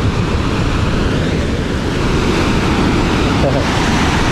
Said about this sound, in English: you have a better view of the big fall, the big waterfall.